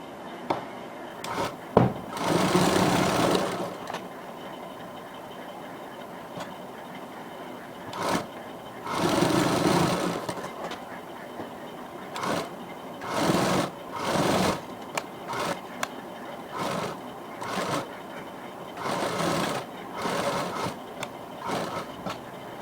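A sewing machine stitches the edge of a net Barbie frock in repeated bursts, some long runs and many short ones, separated by quiet pauses and small handling knocks, close up.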